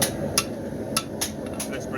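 A hammer strikes a forged knife's ricasso laid over an anvil horn, ringing out in sharp metallic blows at an uneven pace, about five hits over a low background hum.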